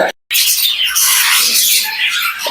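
A pair of sun conure parrots screeching loudly and harshly at close range, a brief pause followed by a continuous stretch of shrill overlapping calls.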